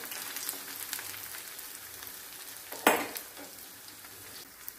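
Paneer fingers fry in hot oil with a steady bright sizzle and crackle, joined by one sharp clatter of being turned partway through.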